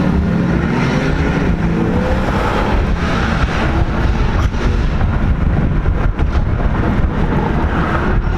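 Exhaust notes from cars at a German car meet blend into a loud, rumbling wash of revving engines and roaring pipes that stays dense and steady throughout.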